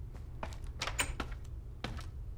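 A trapdoor opens in the video game Minecraft Story Mode, a few short wooden clacks and thunks, one sharper than the rest, over a low steady hum.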